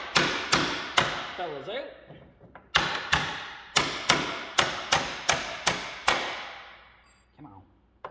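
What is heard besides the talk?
hammering parts out of a jacked-up Ford F7 truck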